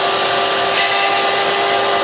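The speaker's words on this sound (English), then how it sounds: "I'm going to engage the secondary vacuum" A vacuum forming machine's vacuum runs loud and steady, the motor whirring continuously with an even high-pitched hiss and no pauses.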